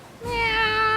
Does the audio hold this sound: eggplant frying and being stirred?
no